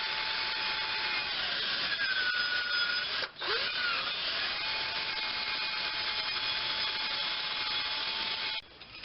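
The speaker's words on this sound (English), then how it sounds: "Also can use a drill for the wire wheel on it." A power drill spins a wire wheel against a Ford truck's metal brake hub, a continuous high whirring scrape with brief dips in pressure before it winds down at the end.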